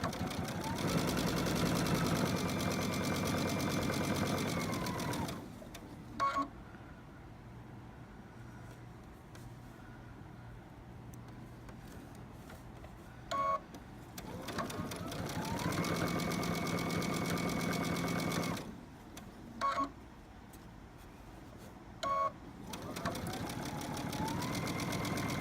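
A sewing machine stitches a line in long steady whirring runs, stopping twice for pauses with small clicks and knocks as the needle is set and the fabric is turned, then starting up again.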